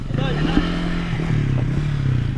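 A motorcycle being ridden on a road in the Philippines, its engine droning steadily up close with a wavering pitch and some rattling, while a voice talks faintly underneath.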